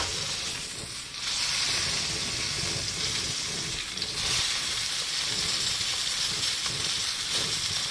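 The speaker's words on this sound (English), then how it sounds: "we're going to make sure that we sear this" Steak searing in a hot pan, a steady sizzling hiss close up that holds for the whole stretch with slight swells, and no talking over it.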